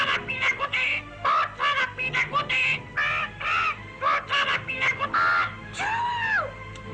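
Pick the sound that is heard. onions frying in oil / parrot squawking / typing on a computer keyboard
parrot squawking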